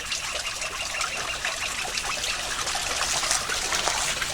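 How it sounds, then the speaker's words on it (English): Water trickles and splashes down a stone channel among old stone ruins, a close, continuous bright babble with small irregular spatters and no voices. "there's water running down this one. So maybe it's a channel for water instead."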